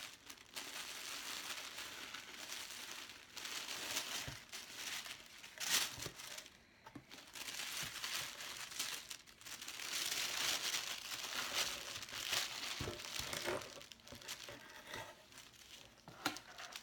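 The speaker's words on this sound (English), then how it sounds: "there's some nice crinkly sounds with this paper" Paper crinkles and rustles up close in irregular bursts of crumpling and light tearing while colorful wool rolags are made, soft and continuous with no talking.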